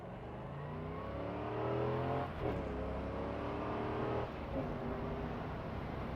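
A C4 Corvette engine drones steadily from inside the car while driving, a low throaty tone rising with a couple of gear changes, continuous and close.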